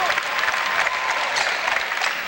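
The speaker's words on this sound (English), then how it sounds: "he gets a big round of applause from the crowd" A crowd at a 1989 Valdosta State versus Delta State college basketball game gives a big, steady round of applause, dense clapping filling the arena without a break.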